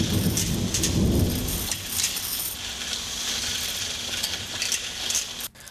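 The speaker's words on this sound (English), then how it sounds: "It's raining." A thunderstorm with steady rain pattering on surfaces and a low rumble of thunder early on, continuous and fairly loud, with scattered sharper drops and no voices.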